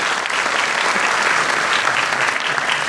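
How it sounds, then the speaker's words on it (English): Steady, dense applause from a large audience, continuous and fairly loud throughout with no voices standing out. "a huge round of applause for all of them once again"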